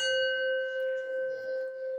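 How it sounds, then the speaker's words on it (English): A Tibetan singing bowl, inscribed with symbols, rings with a pure sustained tone and bright overtones that hum steadily and slowly pulse in loudness, heard close and alone. "The Tibetan symbols inscribed into this bowl magically weave themselves into the vibrational sound you hear"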